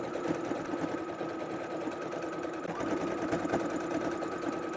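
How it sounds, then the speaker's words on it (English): A sewing machine stitches along a marked line on a quilted beginner project, a steady, continuous mechanical whir with a fast rhythmic chatter, close and unbroken, with no voices. "I'm going to sew on the line."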